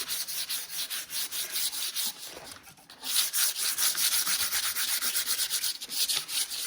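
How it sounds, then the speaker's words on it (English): Fine 220-grit sandpaper is rubbed lightly back and forth over a painted kitchen cabinet, making a steady close scratchy swish with a brief pause midway and no talking. "I just take 220 paper and I give it a very light sanding."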